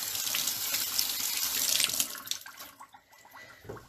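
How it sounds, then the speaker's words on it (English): Water runs from a kitchen tap in a studio kitchen while hands are washed, a steady rushing stream that thins and breaks into splashes toward the end, with no talking. "let me wash my hands because that felt a little weird"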